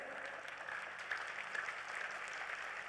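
Audience applause at a religious gathering, the Shri Kalki Mahotsav festival, a soft, fairly distant patter of clapping sustained throughout with a few louder bursts and no talk over it.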